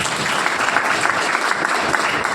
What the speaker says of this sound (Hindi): एक बार जोरदार तालियां हो जानी चाहिए।